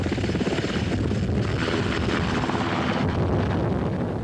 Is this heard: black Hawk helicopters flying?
yes